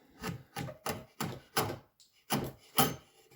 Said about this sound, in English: What I'm going to do is come back in with my draw knife and just start removing this